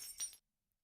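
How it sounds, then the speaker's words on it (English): A pane of glass shatters in one short, bright crash lasting under half a second. The burst is followed by silence, with a faint tinkle near the end. "glass break"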